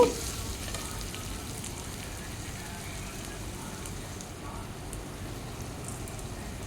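Carrot and split moong dal frying in a pan for moong dal pulao, a steady soft sizzle with a faint crackle that holds even and close throughout, with no talking.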